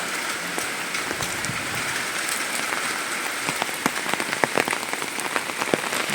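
Heavy downpour in a rural village, a dense, loud roar of rain with sharp drips and splashes hitting close surfaces, continuous throughout and without speech.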